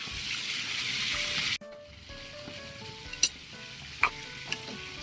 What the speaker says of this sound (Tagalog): Mga tambay, oh, kumukulo na.